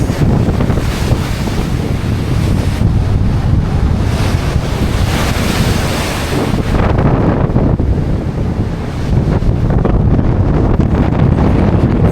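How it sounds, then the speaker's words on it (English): Strong wind roars and buffets the microphone over the rushing wash of choppy sea waves off Comino, loud and continuous throughout. "Oh shit, it is so windy. Like the sea is choppy."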